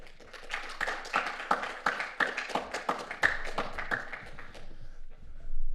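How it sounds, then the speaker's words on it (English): Audience at a technology conference applauds steadily, a dense patter of many hands clapping at close range for several seconds before it fades toward the end. "we give Jan a warm welcome by applauding him"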